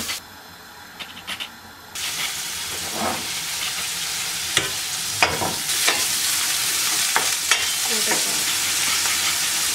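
Rice frying in a pan with a steady loud sizzle, broken by sharp scrapes and clacks of stirring, close up with no talking.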